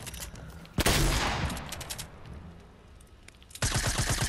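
A silenced SMG fires in Fortnite, rapid muffled bursts of gunfire: one burst at the start, a sharp loud blast with a fading tail, then another fast rattling burst at the end.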